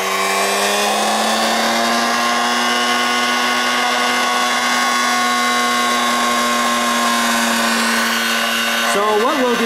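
A generator coil test rig under load whines with a loud steady tonal hum that sags slightly as the RPM drops, then wavers abruptly near the end.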